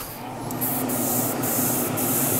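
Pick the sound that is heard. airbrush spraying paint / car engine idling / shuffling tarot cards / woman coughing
airbrush spraying paint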